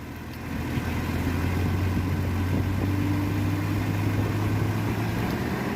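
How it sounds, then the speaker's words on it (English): A 1989 Jeep Comanche Eliminator engine idles too high because of a faulty idle air control connector, giving a steady, close, even hum with no voices over it. "it's obviously idling way too high"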